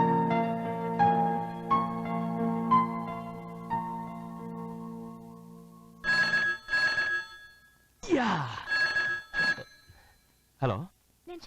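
An old telephone bell rings in repeated steady bursts for several seconds, then stops. Heavy breathing and panting follow, with spoken voices afterward.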